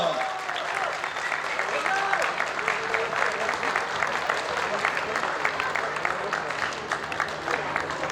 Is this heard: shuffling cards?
no